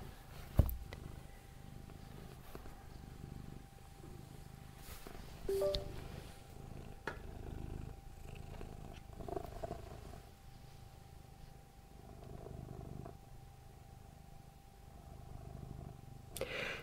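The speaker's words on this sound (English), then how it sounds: "It's not me purring." A house cat purrs softly in a quiet indoor room, a faint steady rumble running continuously with a few small bumps and knocks, no talking.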